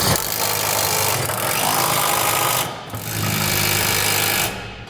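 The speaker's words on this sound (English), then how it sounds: "Now we'll start to tighten down our hardware, beginning with the center section of the rails first." A power tool with a 3/4-inch socket runs in two long, loud, continuous bursts with a brief pause between them, tightening rail hardware on a gooseneck trailer hitch installed on a 2016 GMC Sierra 2500.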